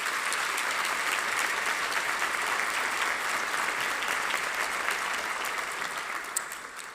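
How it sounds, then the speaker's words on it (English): Large audience applauding Values Awards winners at a corporate awards event, a full, continuous roar of clapping that stays steady and begins to thin out near the end. "Let's give all the Values Awards winners another round of applause."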